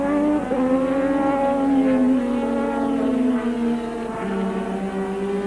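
1985 Formula One turbo race cars at Silverstone, engines wailing and shifting pitch as they pass near Stowe Corner, a sustained loud whine with gear changes and a fading drop in pitch.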